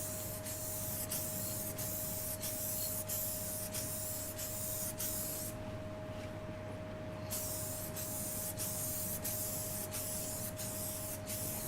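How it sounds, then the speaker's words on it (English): Satin lacquer sprays in quick, even bursts onto a woodturned bowl, a close steady hiss with regular pulses, a brief pause midway and a constant hum underneath. "So I'll put on the satin lacquer. So I'm putting it on quickly and evenly."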